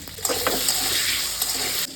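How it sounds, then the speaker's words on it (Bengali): Potatoes frying lightly in a pan with a steady, close sizzle and a few soft stirring scrapes, with no talking. "আর এই আলুটা একটুখানি হালকা করে ভাজছি।"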